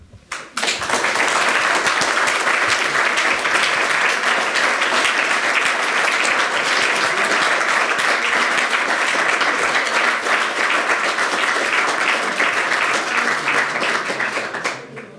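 Audience applause after a conference speech on whether state politics can reduce inequality: a loud, sustained burst of many hands clapping, steady for about fourteen seconds before tapering off.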